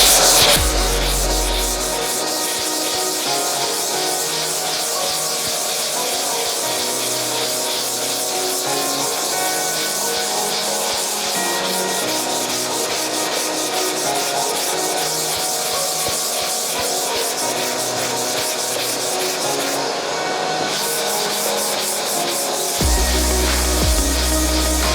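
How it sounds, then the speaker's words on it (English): Steady, loud machine sanding with 240 grit over sprayed polyester filler on a 1971 Camaro body, a continuous close abrasive whir that runs unbroken and briefly cuts out near the end. "I still want to sand this probably on the machine with some 240 before we go to primer"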